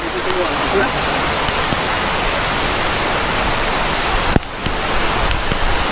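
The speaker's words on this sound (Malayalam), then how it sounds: "അപ്പൊ നല്ല മഴയും കൂടി തുടങ്ങിയിട്ടുണ്ടേ" Heavy rain falls near Kaappimala waterfall, a dense, steady hiss-and-roar of water filling the whole scene at close range, with a single sharp knock shortly before the end.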